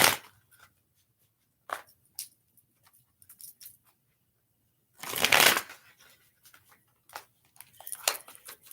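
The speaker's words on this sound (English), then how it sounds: "I heard put 3 shuffles on it, so let's do that first" Osho Zen Tarot cards are shuffled in several quick bursts of riffling and sliding, close and crisp, separated by near-silent pauses.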